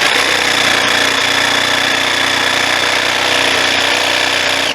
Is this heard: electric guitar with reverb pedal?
no